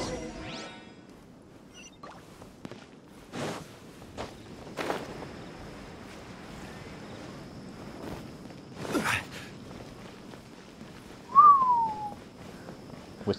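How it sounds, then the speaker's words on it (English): A short rising-then-falling whistle near the end, after scattered footsteps and soft thuds in a quiet Genshin Impact scene with a faint steady tone. "Whistle noise."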